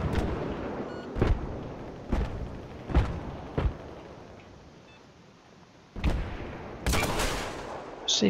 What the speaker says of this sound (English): That was a bit of reaction shooting